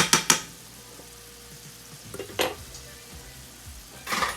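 A tablespoon of butter sizzling in a hot pan, a low steady fizz punctuated by sharp utensil clinks at the start, a scraping stir midway and another clatter at the end.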